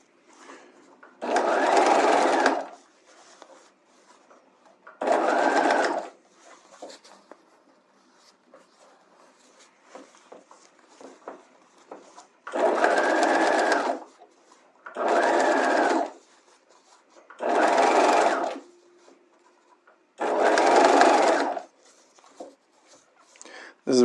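Sewing machine stitching fashion fabric and lining together along a bodice hem, running in six short bursts of a few seconds each, close and fairly loud, separated by quiet pauses with faint handling noise.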